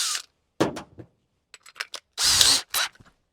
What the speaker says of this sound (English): you put it on your drill, 1/2 inch hole saw bit, goes right in there